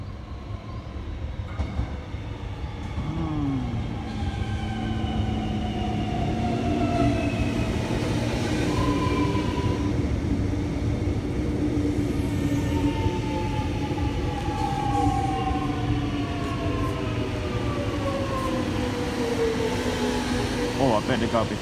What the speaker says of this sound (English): I better go down and get the train now.